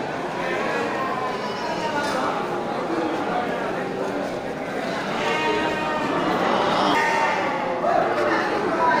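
Sheep and goats, including breeding ewes and does, bleat in a crowded pen, their overlapping calls rising and falling steadily under someone talking throughout.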